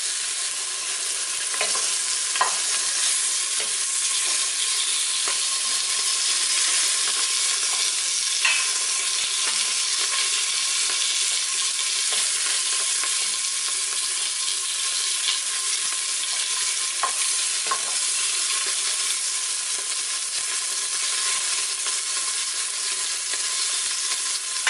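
Beef pieces sear in a hot pan for a beef bourguignon, browning on all four sides. The sizzle is loud and steady and runs the whole time, with scattered sharp clicks and pops of a utensil moving the meat. No one speaks.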